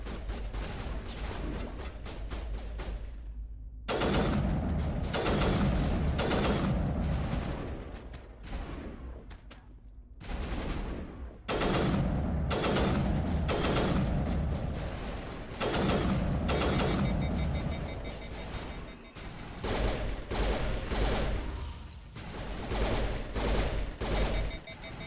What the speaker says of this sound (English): Why am I shooting 3 times?